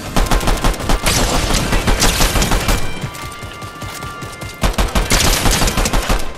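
Rapid gunfire from a Fortnite match, with dense bursts of loud, close shots that ease off midway and then return in a fast volley.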